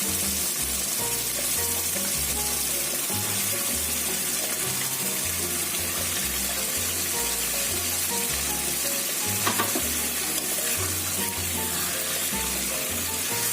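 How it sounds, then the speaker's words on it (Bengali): Marinated chicken pieces for lemon chicken fry in a pan with a loud, constant sizzle and crackle, and soft low thumps recur underneath throughout. "এরপরে আমি দিয়ে দিলাম ম্যারিনেট করে রাখা চিকেনগুলো।"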